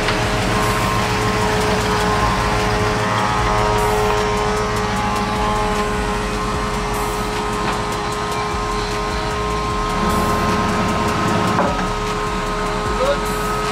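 A donk car is being loaded onto a transporter truck on a narrow street, with a loud, steady engine drone and low rumble running continuously and no clear breaks.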